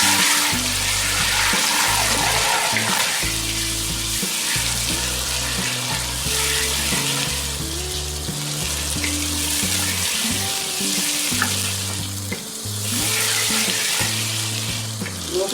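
Onion with ginger garlic paste frying in a pan for a goat trotter paya dish, a steady loud sizzle with stirring scrapes running throughout, no talk.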